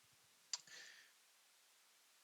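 Mouse clicks while playing the browser strategy game Territorial.io: a few sharp, close clicks with a short whirring burst after the first, then quiet, and another click at the end.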